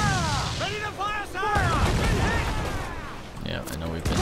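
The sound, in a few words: ship cannon fire in Assassin's Creed IV: Black Flag video game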